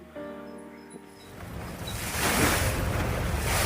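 Open ocean water surging and washing in a broad, rising roar of surf and wind, with a brief tonal hum at the start before the wash builds louder and stays steady.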